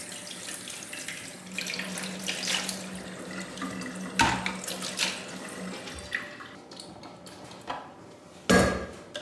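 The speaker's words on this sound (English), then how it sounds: "Then I rinse everything off and then I quickly use the bottle cleanser for everything and then I rinse it all in one go." A kitchen tap runs steadily into a sink while baby bottles are rinsed, with close water splashing and occasional clinks and knocks of bottles and parts against the basin.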